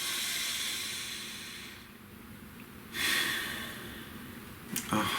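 A slow, deep breath drawn in and let out close by, soft and hissing, with a second breath starting near the end and no talking.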